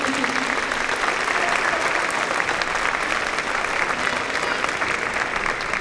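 Sustained applause from a large audience of parents at a school district band festival, a thick, even roar of many hands clapping that stays loud and steady for several seconds.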